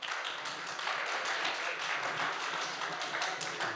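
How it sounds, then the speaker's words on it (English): Conference audience at CyberCon applauds in a steady, dense patter of many hands clapping together, sustained and fairly loud throughout. "Everybody give a round of applause to John and Kevin for all their networking side."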